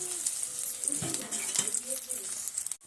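Onion and green chilli sauté in a pan, producing a steady sizzle with spatula scrapes and light clinks of the utensil, close-up and moderately loud, cutting off briefly at the end.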